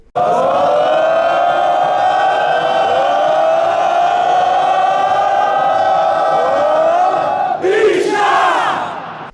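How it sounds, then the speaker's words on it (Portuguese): A full football stadium crowd bellows a long, sustained mass chant aimed at the opposing goalkeeper as he takes a goal kick, a loud roaring drone that swells and breaks into a final yelled burst before fading. "o estádio inteiro acaba gritando bicha"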